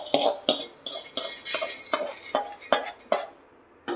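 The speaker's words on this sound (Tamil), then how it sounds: "இதை வந்து ஒரு பாத்திரத்தில் கொட்டிடலாம்." Roasted moong dal is tipped into a metal vessel in a home kitchen, giving a run of close, sharp metallic clinks and scrapes with a dry rattle in between.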